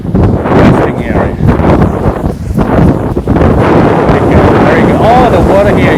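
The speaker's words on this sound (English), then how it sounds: "Even in such a big windy day, so much wave" Strong seaside wind roars and buffets the microphone continuously, with waves and surf churning beneath it and someone talking over the noise at times.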